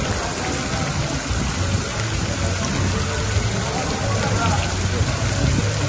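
Heavy rain in the streets of Quixadá, Brazil, with floodwater rising nearly to car level, a loud, steady hiss of downpour and rushing water with no break.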